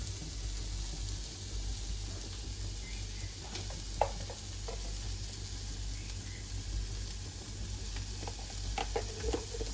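Snake gourd and onion fry steadily in a pan, a soft continuous sizzle with a few light clicks of a spoon against the pan, close and fairly quiet with no talking.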